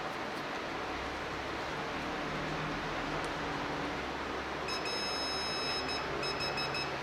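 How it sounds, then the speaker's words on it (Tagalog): A multimeter's high continuity-test buzzer sounds in a few short bursts while checking a vacuum cleaner switch, over steady background hiss, near and moderately loud, with no talking. "set lang natin yung multimeter natin sa continuity test sa buzzer mode"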